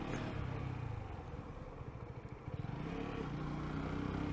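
A motorcycle rides along and overtakes other traffic, a steady loud engine drone with wind rush and a brief rise in engine note midway.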